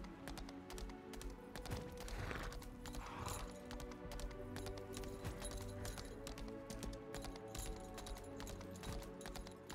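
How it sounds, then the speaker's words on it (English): Steady clip-clop of horse hooves trotting along in Lost Ark, a continuous rhythmic beat over a dense background of ambient game sound. "Listen to the footsteps of the horse."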